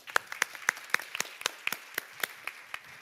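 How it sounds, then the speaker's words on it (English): Sparse, fairly faint applause from a small panel-discussion audience at a migration dialogue side event: a steady patter of individual claps at roughly even intervals. "A round of applause to all of us."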